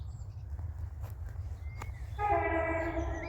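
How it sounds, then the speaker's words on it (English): A train passes at a distance with a low continuous rumble, then a sustained multi-tone horn sounds clearly for the last second, outdoors in the New Forest countryside. "Here comes another train."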